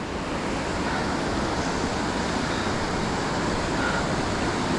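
River rapids at Ohiopyle's Cucumber Rapids boulder field roar in a dense, constant wash of moving water, close and even, with some wind noise mixed in and no speech.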